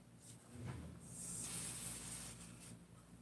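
Brake cleaner sprays from an aerosol can in a short, soft hissing burst that swells and fades, fairly quiet and alone.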